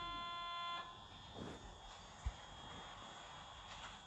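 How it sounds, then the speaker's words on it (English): A train door-closing buzzer in the Roblox game sounds as a steady electronic tone lasting under a second, then cuts off, followed by quiet rumble and a brief thump. "Okay, doors are closing."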